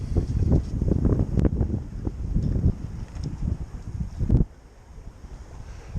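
A Dufour 3800 sailboat runs on a broad reach under full sail at about five knots, with gusty wind buffeting the microphone and water rushing along the hull, loud at first and then easing to a quieter wash.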